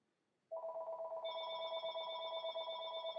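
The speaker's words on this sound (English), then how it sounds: "Oh, the phone's ringing." Telephone ringing in a survival video game house, starting abruptly after a short silence and holding as a continuous, steady electronic ring with bright harmonic tones, moderately loud and alone.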